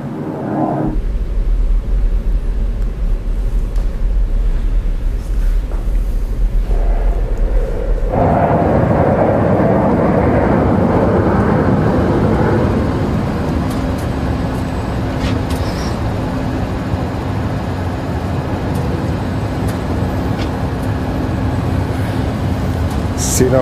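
BMW car parking itself automatically at a Consumer Electronics Show demonstration in Las Vegas, with a low, steady hum of a slowly moving vehicle amid broad exhibition-hall noise and background voices throughout.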